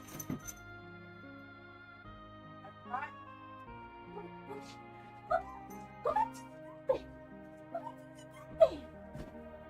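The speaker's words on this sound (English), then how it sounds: "Yes, it's a dog." A dog in a video game gives scattered soft yips and whimpers over a steady background music bed, short and fairly faint.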